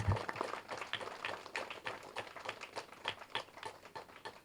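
Audience applause for Kumaraswamy at the fifth anniversary gathering of the Tapasthali Shakti Mahamuni Pyramid in Ravicharla, a dense run of steady clapping that fills the whole stretch without any voices.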